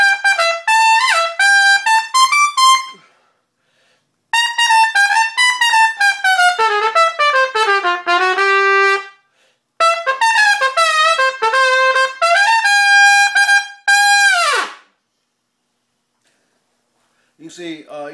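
A circa-1981 Benge trumpet plays bright, crisp musical theater style phrases with clean, articulate tongued notes, loud and close, in three bursts separated by short pauses, ending with a brief note.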